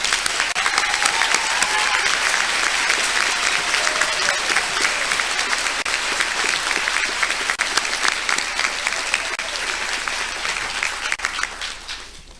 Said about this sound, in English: give these family, friends, and significant others a richly deserved round of applause